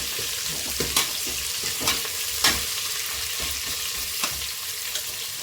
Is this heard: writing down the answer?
no